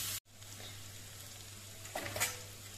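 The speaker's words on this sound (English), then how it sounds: "Saute it well." Tomato and chilies sautéing in a pan for Goan batat bhaji (potato sabzi), a low steady sizzle with a couple of brief scraping stirs near the end, fairly quiet and close.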